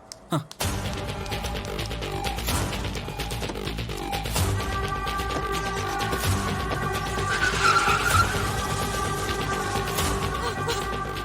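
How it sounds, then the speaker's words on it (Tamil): A car pulls away with a sustained engine roar and tire skid after a brief thump, loud and steady for several seconds in a Tamil TV serial scene, with faint background voices. "சேது, ஜனமா வண்டி எடு."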